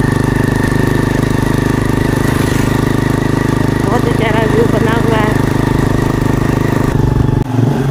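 A motorcycle rides along a village road through rice fields in rural Pakistan, its engine droning steadily up close with someone talking over it before the sound cuts out near the end.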